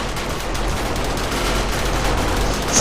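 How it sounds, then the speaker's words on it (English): Automated defensive turrets in the survival game 7 Days To Die, firing as a dense, continuous hail of rapid gunfire, loud and steady throughout with no pauses. "My god, these turrets."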